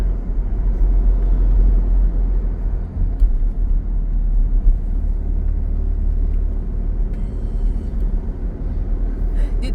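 Mitsubishi Mirage engine straining on a drive, a steady low droning rumble close by and continuous for the whole stretch, with faint road noise over it and no voices.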